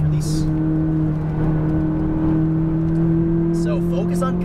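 A McLaren 570S sports car accelerating on a race track, a steady loud engine drone with a rising tone heard from inside, with a voice speaking over it.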